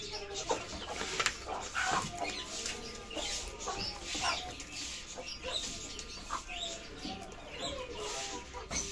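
Golden Misri hens feeding on spinach on a rooftop, giving a stream of soft clucks and murmuring calls up close, with pecking and rustling underneath.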